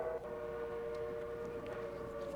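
A train passes a quiet railway junction as a radio drama sound effect, a steady horn-like tone held over a low rumble of wheels, continuous and fairly faint.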